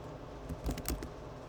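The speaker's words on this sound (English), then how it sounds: "I can type in" Typing on a computer keyboard, a short cluster of a few quiet key clicks over a steady background hiss, close but faint.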